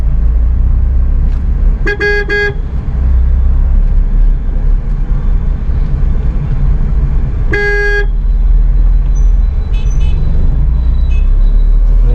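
A car moves slowly through a traffic jam on a busy road, with a constant low engine and road rumble and several short vehicle horn toots from nearby traffic.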